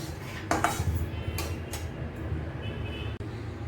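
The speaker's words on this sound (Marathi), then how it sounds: "गॅस बंद करते आणि हा रवा प्लेटमध्ये काढून घेते." Semolina (rava) roasted in ghee is scraped out of a metal pan onto a plate, a run of clattering metal knocks and scrapes that then thins out into quieter handling.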